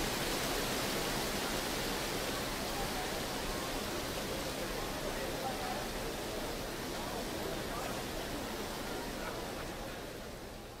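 A waterfall thunders continuously in Final Fantasy XII at Nalbina Fortress, a broad, close rushing roar that holds steady and eases off slightly near the end, with no other sound over it.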